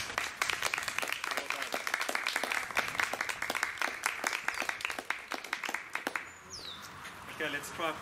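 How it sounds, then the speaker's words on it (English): A school audience applauds a pupil at a sports badge presentation, with many rapid close claps that thin out near the end. Birds chirp faintly under the applause. "Give him a round of applause."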